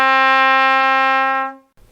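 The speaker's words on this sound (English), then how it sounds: "To play D, you use your first valve and your third valve." Trumpet holding a low D with first and third valves pressed, one steady sustained tone lasting about a second and a half, then cut off into quiet.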